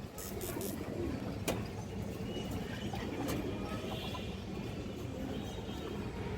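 Pigeons at a Bangladeshi pigeon farm, among colour, racing and high-flyer breeds, make soft low coos and scattered calls over a steady bed of rustling and cage noise, with no talk.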